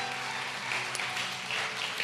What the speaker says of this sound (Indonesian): Beri tepuk tangan lagi buat Tuhan Yesus.